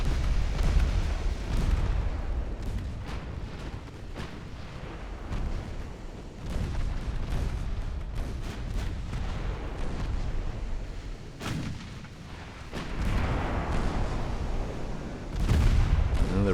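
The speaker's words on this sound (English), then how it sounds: "Danke, you are supposed to use your main guns on something big." Battleship main guns fire in a 1904-era naval battle game, heavy rumbling booms rolling one after another over a constant low roar of battle, with several louder blasts standing out.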